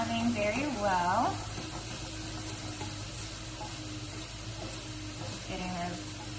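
Meat for a breakfast casserole sizzles steadily in a hot pan, a close, continuous frying hiss, with a voice speaking briefly over it.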